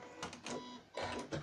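A sewing machine stitches fabric for a makeup bag in two short whirring runs separated by a brief pause, close and moderately loud with no voice over it.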